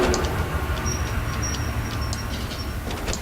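Low rumbling train rolling past in Amnesia: A Machine for Pigs, with a faint high squeal now and then over a steady heavy drone.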